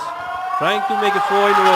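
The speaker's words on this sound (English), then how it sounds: "that's the siren to mark the end of the game" A siren sounds at an under-17 schools rugby final, QVS against Natabua, marking the end of the game. A loud, wavering horn-like tone starts partway through and pulses in short bursts under a commentator's voice.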